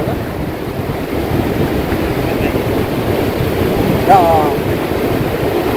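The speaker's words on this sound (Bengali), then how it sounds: "এই যে দেউ বিরাট দেউ আছে" A steady roar of big sea waves mixed with gusty wind buffeting the microphone at Shah Porir Dwip, Teknaf, continuous with no pauses.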